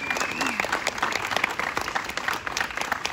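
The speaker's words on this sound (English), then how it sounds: "how about a big round of applause for all these Hepcats" Applause from an audience at a retirement party for volunteer hosts, continuous clapping with some crowd voices mixed in underneath.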